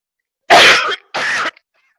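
Two short, loud bursts of coughing or throat clearing in a council chamber, a brief pause between them, with no talk over them.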